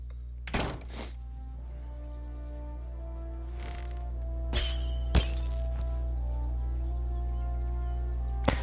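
Glass objects shatter in the video game South Park: The Stick of Truth, a few sharp breaking crashes and thunks spread over several seconds against a low steady background hum.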